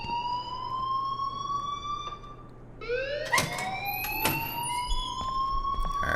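A siren-like alarm wails inside the Life Is Strange video game, its rising, repeating sweeps loud and steady throughout, with sharp clanks breaking in near the middle.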